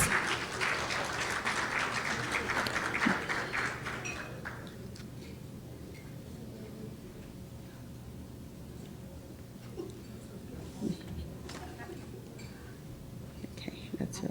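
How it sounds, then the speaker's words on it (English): Audience applause at an awards ceremony, dense and fairly loud for about four seconds, then fading into quiet murmuring and scattered small noises from the room. "Round of applause, round of applause."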